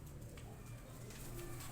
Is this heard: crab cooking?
no